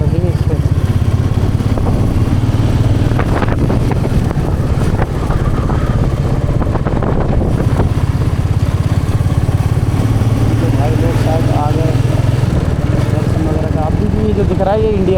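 A Royal Enfield Bullet motorcycle riding along a smooth mountain road near the India–Nepal border in Uttarakhand, its engine a steady loud thump with wind rumble throughout and no break.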